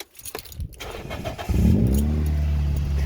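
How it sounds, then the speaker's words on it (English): Faint clicks and key rattles come first, then a car engine cranks and catches, settling into a steady, close idle. "we'll do a nice start up of the car."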